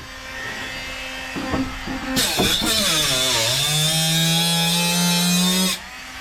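An angle grinder with a small cutting disc cuts into the welded corner of a van body. The motor spins up loudly, dips in pitch as the disc bites into the metal, then holds a harsh, steady whine before cutting off.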